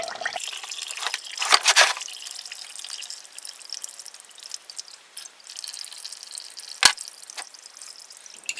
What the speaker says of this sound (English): There's the remnants of whatever oil was in there. Looks like that might be old 140 weight.